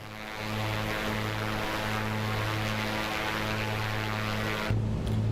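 The A2A Piper Comanche 250 in Microsoft Flight Simulator 2024 runs with a steady piston-propeller drone and a low tonal hum, constant and fairly loud, shifting in pitch near the end.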